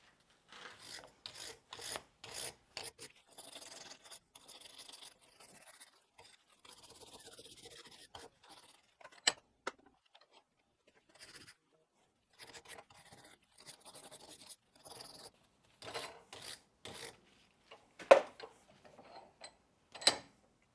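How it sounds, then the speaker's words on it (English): A wire brush scrubs the threads of a brake caliper bracket bolt from a Renault Scenic 3, making short, dry, raspy strokes in uneven bursts with quiet pauses between, close and fairly faint, with occasional sharp metallic ticks. "give your caliper bracket bolt threads a wire brush over as well"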